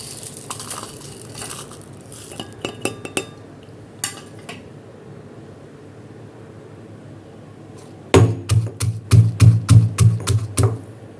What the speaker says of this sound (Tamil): மிளகு ஜீரகம் பூண்டு எல்லாம் வந்து நம்ம நுணுக்கிக்கலாம் எல்லாமே சேர்த்து வந்து நல்லா இடித்து எடுத்துக்கலாம்